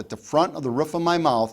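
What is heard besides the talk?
No everyday noises stand out.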